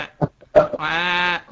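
A human voice imitates a goat or sheep bleat: a short burst of speech-like sounds followed by a sustained, nasal, wavering bleat about half a second long, close and clear.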